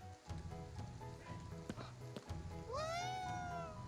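A single drawn-out meow from a cat yokai in the video game Ghostwire, rising then falling, clear over a steady bed of ambient game sound and soft background tones.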